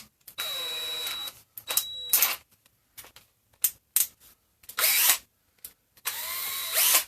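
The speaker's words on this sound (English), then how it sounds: "let's line up where we're drilling on the L" A power drill bores into trophy letters in short, loud whining bursts separated by brief pauses, with some clicks and rattles in between.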